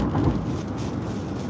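A low, rolling rumble of thunder during a nighttime storm in Las Vegas, steady and fairly distant, with a wash of rain-like noise beneath it and no voices.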